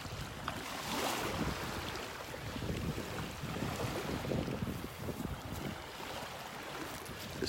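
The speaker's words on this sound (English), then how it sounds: "Just wish it wasn't so windy out here." Steady wind blows across a beach in North Naples, Florida, roaring and buffeting the microphone with a constant rushing noise mixed with faint surf, with no talking.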